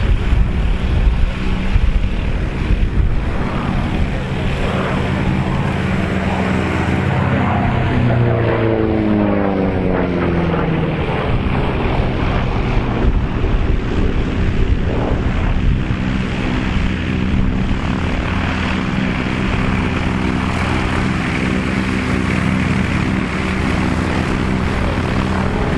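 A P-51 Mustang propeller fighter passes over an airshow, its loud engine drone swelling and sweeping in pitch as it flies by, then holding a steady roar against open-air background noise.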